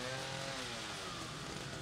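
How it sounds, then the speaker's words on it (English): A chainsaw buzzes and revs in the horror video game The Evil Within, a quiet, continuous engine drone with a shifting pitch. "Chainsaw!"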